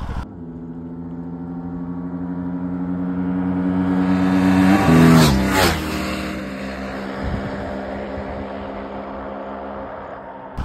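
An Aprilia RS457 and a KTM Duke 390 rev hard in a rolling race from low speed, engine tones climbing steadily to a loud peak as they pass close by, then fading into a lower drone.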